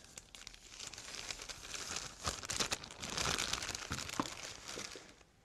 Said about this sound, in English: Put the exhausted consumable into the recycling bag.